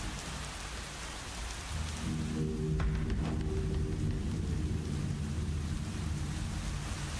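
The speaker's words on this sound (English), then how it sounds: "That creepy rain, though." Rain pours in Stanley Parable: Ultra Deluxe, a dense, close hiss that swells louder partway through, with low thunder rumbling underneath; no voices.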